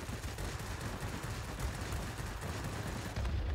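Sustained rapid machine-gun fire from a Bf 109 E-3 fighter in World of Warplanes, a dense continuous rattle with no pause.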